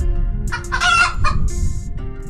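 Chickens on a chicken farm cluck and squawk loudly and close up in a few quick bursts over a rough background of rustling and low noise.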